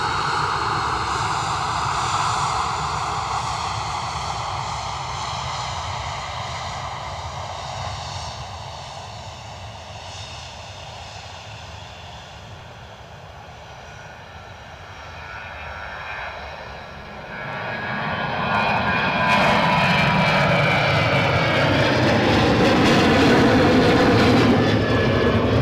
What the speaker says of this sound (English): Transavia just moving out onto the active.